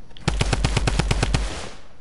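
Rapid burst of about ten drum gun shots in a video game, loud, evenly spaced and close, with no voices over the fire.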